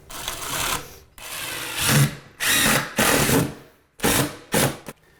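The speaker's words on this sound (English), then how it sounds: "I'm gonna drive one screw right down the middle." Cordless drill drives a screw into a wooden mudroom bench in several close, loud whirring bursts of about a second each, separated by short pauses, with no talk.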